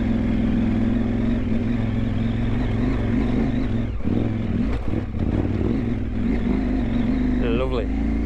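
A KTM 890 Adventure R motorcycle runs steadily in first gear, a constant close engine drone with a short throttle rise near the end, while a rider talks over it.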